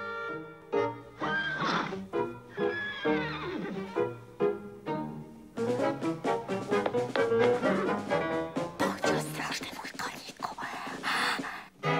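Cartoon horses in a Smurfs episode whinny and neigh loudly several times in succession, with hoof clip-clops, breathy gasps and whispered voices mixed in.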